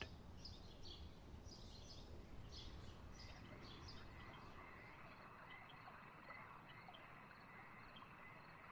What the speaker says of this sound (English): Cicadas, insects, they rub their wings together.